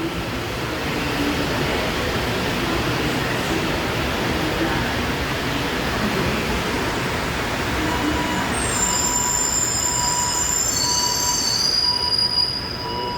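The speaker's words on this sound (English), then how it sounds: "Yeah, you see, that's the train that's out of service." An out-of-service Montreal metro train squeals loudly on the rails, a rumbling roar joined late by high, piercing wheel squeals.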